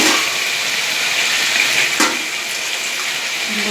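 Water poured into a pan of well-fried spices while cooking, a steady broadband hiss and sizzle that keeps going throughout, with a brief surge near the middle, close and fairly loud.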